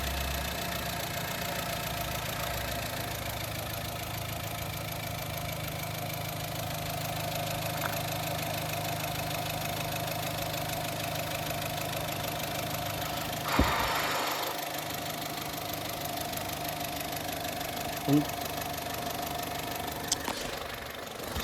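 A Honda Amaze 1.2 i-VTEC petrol engine with CVT automatic idles at a steady low hum, with a couple of brief knocks and clunks partway through.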